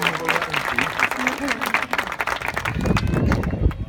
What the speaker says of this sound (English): how about the round of applause for the slap dance from the happy men of Samoa